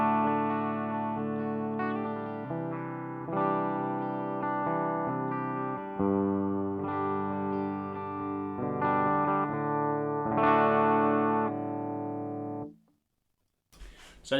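Electric guitar played through an orange overdrive pedal with a second pedal switched off, a steady run of sustained strummed chords and notes, distorted and full, then a sudden cut to near silence at the end.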